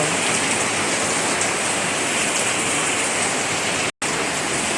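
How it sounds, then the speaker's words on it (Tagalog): Heavy rain pours steadily in a dense, loud hiss with no letup, broken only by a split-second dropout near the end. "Ayan guys, lumakas na talagang ulan."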